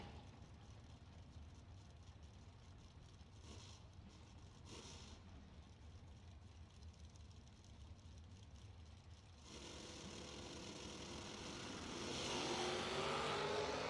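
An Oldsmobile drag racing car launches down a bracket racing strip, its engine droning at a distance before swelling into a louder, rising roar near the end.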